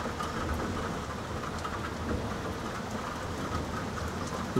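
Heavy rain from a severe thunderstorm pours steadily and loudly, a dense unbroken hiss, with low rumbles of thunder rolling underneath.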